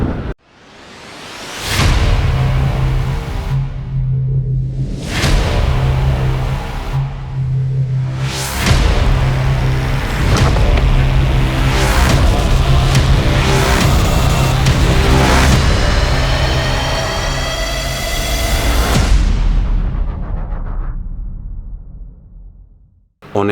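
A motorcycle rides along a road in Thailand, its engine droning and surging in repeated revs with wind rush, loud and close, from start to finish.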